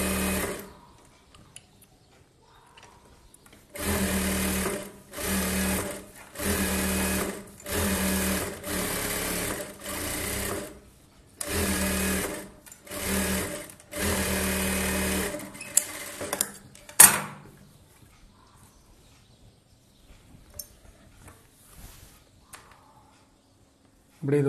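Sewing machine stitching blouse fabric in bursts of a few seconds each, separated by short pauses, fairly close and alone, with some quiet handling noises afterward.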